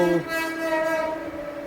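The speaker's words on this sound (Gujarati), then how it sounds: "ટ્રેન આવી ગયો" A train horn sounds in long sustained tones, loud and steady, with rail rumble underneath as the train comes in.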